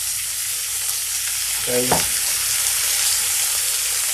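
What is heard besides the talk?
beer poured into chicken sizzling in a Dutch oven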